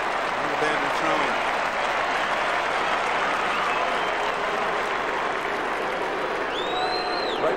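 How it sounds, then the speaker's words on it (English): A large stadium crowd roars and cheers for Sydney at a 2002 AFL night match against Richmond, a loud continuous wall of noise with a commentator talking over it. "Great vocal support for Sydney."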